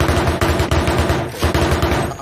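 Rapid automatic gunfire in the military video game ARMA Reforger near an armored vehicle, a loud, dense stream of close bursts with brief pauses between them.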